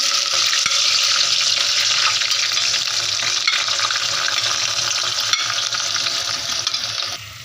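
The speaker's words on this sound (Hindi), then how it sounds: "ऑयल गरम हो गया है तो इसमें भिंडी ऐड करती हूँ" Okra dropped into hot oil in a pan for a bhindi gosht curry sizzles loudly and steadily, a dense unbroken crackle and hiss that continues with no voices.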